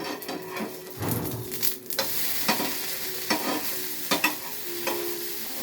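Dosa frying in oil on a hot pan, a steady close sizzle with scraping and stirring knocks from the spatula scattered throughout, no talking.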